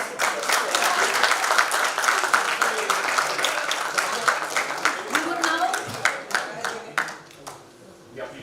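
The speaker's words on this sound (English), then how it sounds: "a huge round of applause for all the winners" Audience applause for the winners at an HR conclave at a university, a dense sustained clapping from a large crowd that thins toward the end into scattered individual claps.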